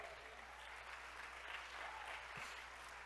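Applause from a church congregation during a Portuguese-language sermon, steady and moderately faint throughout, a broad hiss of many hands clapping at once with no voices over it.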